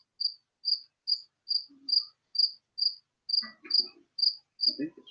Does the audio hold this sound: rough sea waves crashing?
no